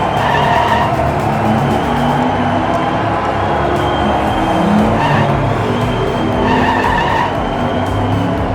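Diecast toy race cars, including a Ford, a Pontiac and Corvettes, roll down a racing track. The sound is a dense, steady rolling rumble that stays loud and continuous the whole time, with a faint rise and fall of wheel noise.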